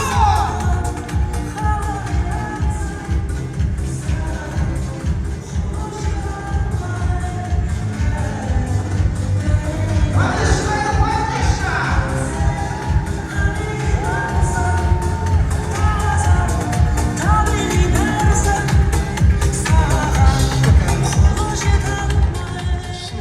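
At a wedding party, a large crowd cheers, shouts and whoops almost without a break for over twenty seconds. The noise is loud and dense, with voices rising and falling and children's shouts mixed in.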